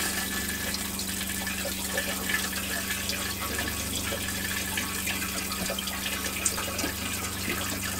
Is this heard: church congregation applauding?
no